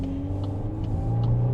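A 2024 VW Golf R with a six-speed manual and 4Motion all-wheel drive, over 300 horsepower, accelerating in first gear: a steady, rumbling engine drone that holds even and close throughout, with no talk over it.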